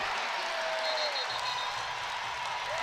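A basketball crowd in the Coliseum cheers and applauds during an NC State Wolfpack game against the UNC-Greensboro Spartans, a dense, steady roar of clapping and cheering heard at some distance.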